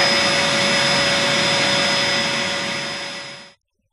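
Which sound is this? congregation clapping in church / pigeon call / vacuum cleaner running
vacuum cleaner running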